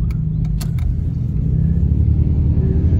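A 2013 Hyundai Veloster's engine rumbles loudly and continuously nearby, a low steady drone with rising revs and a few brief metallic clinks early on, with no talking.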